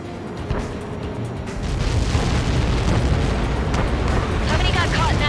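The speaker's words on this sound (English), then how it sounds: "How many got caught in that explosion?" A missile strike detonates in the Ace Combat 7 video game, its boom swelling into a loud, sustained broadband roar that rumbles on to the end.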